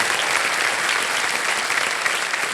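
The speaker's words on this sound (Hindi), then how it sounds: "एक बार तालियां बजवाएं के लिए।" Studio audience on a quiz show applauding in a brief, dense, even burst of clapping at close range.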